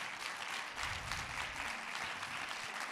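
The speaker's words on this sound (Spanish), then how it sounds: "Un fuerte aplauso" Steady applause from an audience at a teachers' fanzine event, a dense continuous patter of many hands, fairly quiet and without talk.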